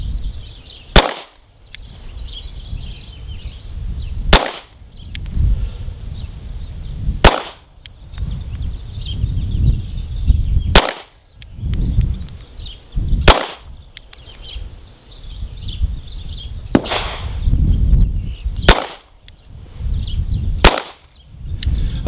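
Eight sharp, loud 9mm pistol shots from a Springfield XDs and a Smith and Wesson Shield ring out at a target range, spaced a few seconds apart, each with a short echoing tail and no talking.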